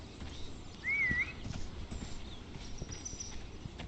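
A horse's hooves clip-clop steadily closer across the ground in the game This Land Is My Land, with a brief whinny near the start and no one speaking.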